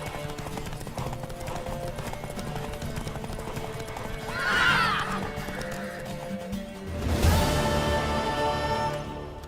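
A mare's hooves clip-clop in a quick galloping rhythm throughout in the video game The Witcher 3: Wild Hunt, with the horse whinnying loudly twice along the way.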